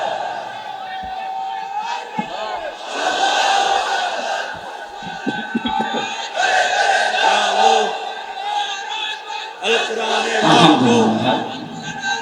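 A large crowd at an outdoor Islamic sermon roars a takbir in unison, several loud swelling bursts of massed voices across the stretch with short lulls between.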